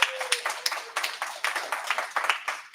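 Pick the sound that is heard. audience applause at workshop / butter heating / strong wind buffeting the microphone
audience applause at workshop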